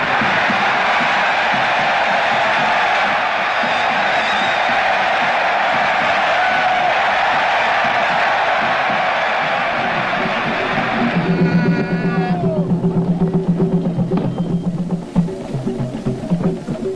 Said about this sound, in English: the crowd gave its biggest and warmest welcome